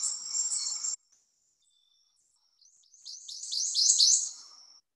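An insistent bird call recorded in the Chicago area, with a sharp high note at the start and then, after a silent gap, a rising series of rapid bright chirps that fades out, clear with no other sound.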